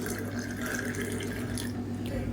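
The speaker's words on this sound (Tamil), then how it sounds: "இப்போ கப்பில் வந்து சேர்த்துக்கலாம்" Strained coriander-leaf diet juice is poured into a cup in a close, continuous, gurgling trickle that runs steadily for a couple of seconds with a faint background hum.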